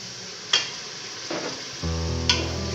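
Spice masala frying in a pan for kadhi pakora, a steady close sizzle with a few sharp utensil ticks and scrapes over it, no talk.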